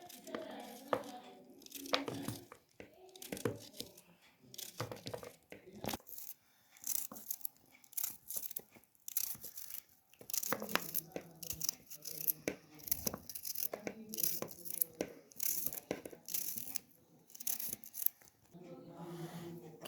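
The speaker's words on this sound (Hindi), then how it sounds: "बिल्कुल छोटे छोटे हमने खीरे को इस तरह काट लेना है।" Knife chopping cucumber into small pieces on a board for a fresh salad, a run of quick, sharp taps and slices with pauses, fairly close, under a voice talking in Hindi.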